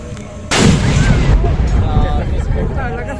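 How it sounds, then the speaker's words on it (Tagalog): A cannon fires a loud boom as part of a 21-gun salute, the blast rolling into a long echoing rumble, with crowd chatter underneath. "Ito na ho ang pagsaludo, 21-gun salute ng mga kanyon."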